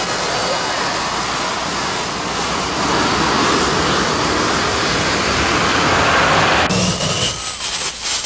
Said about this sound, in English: T-53 turbine on the way.